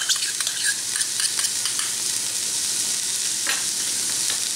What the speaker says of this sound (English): Using a wooden spoon or spatula, we're just gonna saute this just for a little bit, just so it gets a little bit of color